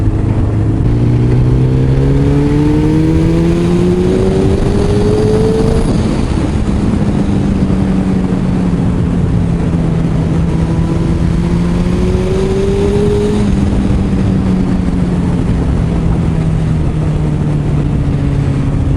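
A 2008 Suzuki Hayabusa motorcycle engine droning steadily while riding, with rising and falling revs as gears change, loud and close against constant wind noise.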